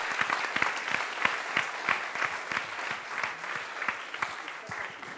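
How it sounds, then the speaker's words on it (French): An audience claps warmly at a crowdfunding presentation, with a dense, steady round of applause that carries on throughout. "ce coup-ci, on peut l'applaudir chaleureusement"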